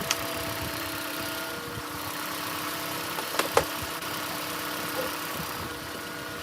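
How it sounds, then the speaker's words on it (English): A Toyota Prius engine idles steadily just after a head gasket replacement, with the lifters settling. A continuous mid-pitched hum carries a few faint ticks and knocks. "Sounds like the lifter's already setting."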